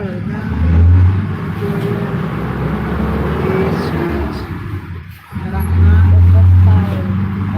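Heavy road traffic, including busway buses, passes close by on a city road, with loud engine roars swelling and fading and a brief lull in between, while people talk nearby.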